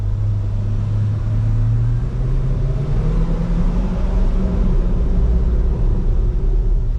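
Deep, continuous engine roar from a Chevrolet C8 Corvette mid-engine sports car, loud and close with a rising low tone, steady throughout with no talking.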